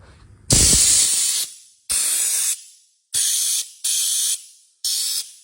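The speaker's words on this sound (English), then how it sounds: "Pretty powerful, so sweet little air gun, pretty powerful" A compact Sunex blow gun fitted with a venturi nozzle fires compressed air in five loud, close hissing blasts: one long burst, then four shorter ones separated by brief silences.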